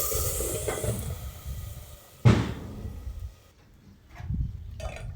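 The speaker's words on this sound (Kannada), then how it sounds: "ಈಗ ಒಗ್ಗರಣೆ ಹಾಕ್ಕೊತೀನಿ." Oil tempering (oggarane) for a simple dal sambar sizzles and hisses in a pan, with a sharp, loud burst of sizzle midway before it settles into softer spluttering.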